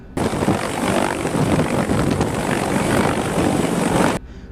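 A US MH-47 Chinook helicopter flying, its rotor and engine roar a loud, steady wash that holds for about four seconds, then cuts off.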